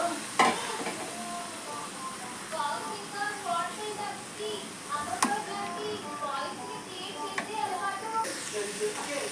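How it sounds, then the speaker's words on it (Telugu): Pre-boiled prawns frying over medium flame in a pan for a traditional Indian prawn fry, with a steady soft sizzle and intermittent scraping stirs, a couple of sharper clacks, and a person talking over it. "ఈ ప్రాన్స్ని ఇప్పుడు దీంట్లో యాడ్ చేస్తున్నాం."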